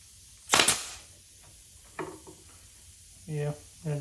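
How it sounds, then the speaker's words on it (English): A staple gun fires a staple into a wooden bee nuc box with one sharp, loud snap near the start, followed by a few quieter knocks and brief handling sounds at close range. "I'm going to toenail some staples in there."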